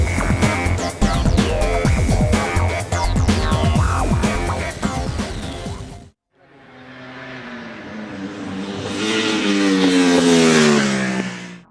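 A Ducati 1199 Panigale motorcycle on the Mugello track: a loud high-revving engine rising and falling through gears, then a second pass that climbs steadily in pitch as the bike accelerates past.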